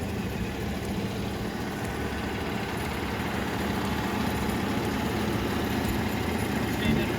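An engine idles steadily as it warms up to temperature, a continuous low rumbling drone with no change in pace, filling the whole stretch at moderate loudness.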